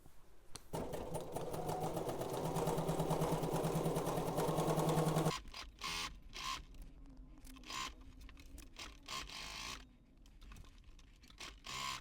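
A sewing machine stitches the side seams of a maternity garment, running in a steady loud whir for several seconds, then stopping, followed by quieter clicks and fabric handling.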